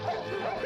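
A dog in an animated pirate adventure gives a quick, close yip or short bark, brief and sharp, with a faint whimpering edge and no speech.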